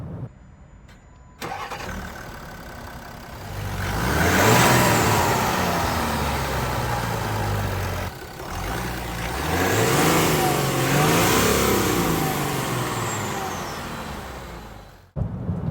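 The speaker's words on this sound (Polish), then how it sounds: "to, że ten silnik ma 6 cylindrów, jest dieslem. Brzmi fantastycznie" A Land Rover Discovery with a 3.0-litre six-cylinder diesel starts, then runs with a steady, loud drone and two rising revs, close by and with no talking.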